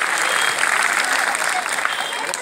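A school Republic Day celebration audience applauds loudly for children on stage, a dense continuous wash of clapping from a crowd.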